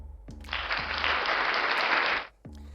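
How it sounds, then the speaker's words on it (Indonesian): Audience applause at a forex talk show, a dense burst of clapping that swells for about two seconds and stops abruptly, with a voice talking briefly before and after. "tepuk tangan dulu ya"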